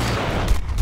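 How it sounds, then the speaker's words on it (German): Burst of M249 SAW machine gun fire in the video game Battlefield: Bad Company 2, a short sustained rattle of shots with two heavier booms standing out near the end, loud and close. "M249 Saw"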